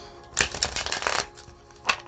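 A tarot card deck is riffled in quick papery bursts, a long flurry of flicking cards followed by a shorter shuffle, close and fairly loud with no talking.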